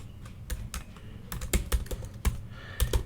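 Keys clack on a computer keyboard in short irregular bursts, a few sharp louder strokes among lighter taps, close up and without any voices.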